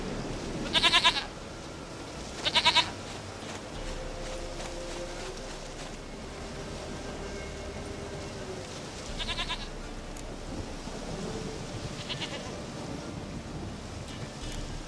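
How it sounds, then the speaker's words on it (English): A goat in the game The Witcher 3 bleats in two sharp, loud calls early on, then gives fainter bleats later, over a steady wash of surf-like ambient noise. "Goat of mine, dearest, sweetest goat."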